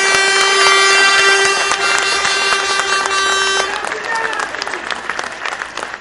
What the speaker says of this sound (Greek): Ένα χειροκρότημα για όλους τους συνετέχοντες στους συνδυασμούς.